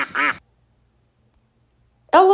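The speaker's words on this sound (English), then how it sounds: "Duck." Two short, nasal duck quacks sound close up, separated by nearly two seconds of silence.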